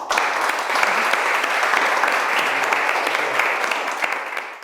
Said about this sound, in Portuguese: me quedo dando un aplauso